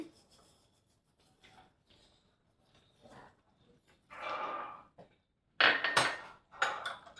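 A spoon stirring boiling vermicelli and green pea payasam in a pot, giving intermittent scraping and clinking against the metal that grows louder and busier toward the end, close by, with no talking.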